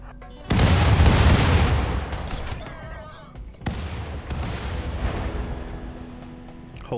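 Grenade blasts in the colony-sim game RimWorld, a heavy booming burst followed by a second lighter detonation and lingering rumble, loud and alone without talk.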